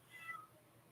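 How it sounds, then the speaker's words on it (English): A house cat gives one short, faint meow indoors, brief and alone against a quiet room background. "Why are you meowing?"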